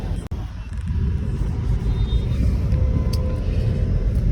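Road traffic rumbles around the cabin of a Hyundai Venue with an engine warning light and DPF fault, a constant low drone of passing vehicles heard from inside, with a brief click at the start.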